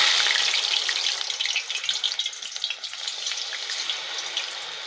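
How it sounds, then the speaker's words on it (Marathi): Coated cauliflower pieces frying in hot oil give a loud, steady sizzle with dense crackling and bubbling that eases slightly toward the end, with no voices. "हे असं कोट करून लगेच त्याला गरम तेलात आपल्याला सोडायचं"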